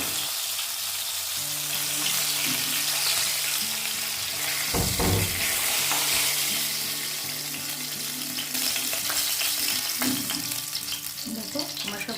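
Pomfret fish fry in hot oil in a home kitchen, giving a loud, continuous sizzle and crackle that swells and settles, with faint background sounds and no talking.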